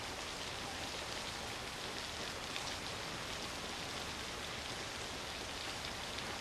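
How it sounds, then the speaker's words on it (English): Heavy rain in Hitchcock's film Psycho, a dense continuous downpour with a constant hiss at a steady level and no pauses. "So I really liked the rain, how he did the rain."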